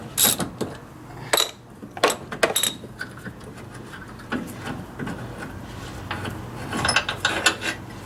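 A ratchet loosening a bolt in an engine compartment gives rapid clicking bursts with metallic taps and scraping, close by and moderately loud, spread unevenly through the stretch.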